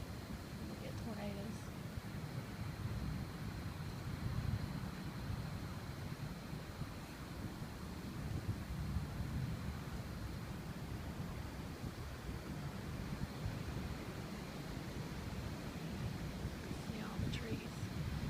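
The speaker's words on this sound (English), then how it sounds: "Wind picking up." Gusting wind roars steadily through trees during a tornado storm in Alabama, a broad constant rush with rumbling buffeting on the microphone, while a person speaks briefly over it.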